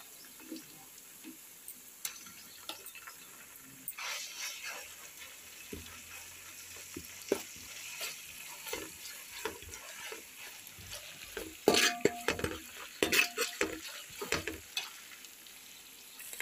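Ginger garlic paste frying in a pan for a chicken curry, a steady close sizzle with scattered ticks and stirring scrapes, growing busier and louder toward the end.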